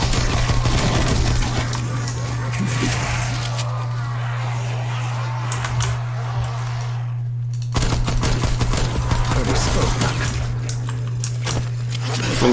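Rapid automatic gunfire from a Call of Duty zombies mode, with bursts of shots hitting zombies in the head, loud and continuous over a steady electronic hum and game noise, pausing briefly before resuming.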